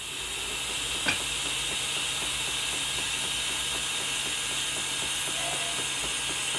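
An R-Tech AC/DC TIG 261 welder torch welds Stanley blades, giving a steady close buzzing hiss with a fine, even crackle throughout and one brief sharper click near the start.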